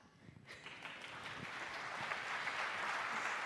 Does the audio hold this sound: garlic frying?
no